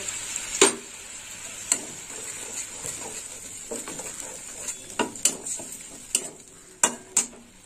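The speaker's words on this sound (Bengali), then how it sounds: "দিয়ে দিলাম পোস্ত বাটা। এবার একটু কষিয়ে নেব।" Coarsely ground poppy seed paste sautés in a pan, a soft sizzle under repeated sharp clinks and scrapes of a spoon against metal at irregular intervals, close and without talk.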